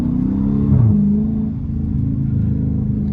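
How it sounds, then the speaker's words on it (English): Engine of a Dodge Charger or Challenger (R/T, Scat Pack or Hellcat) rumbles loudly from inside the car, its pitch rising in a brief rev blip during a downshift and then settling back to a steady drone. "Hitting the gas while shifting."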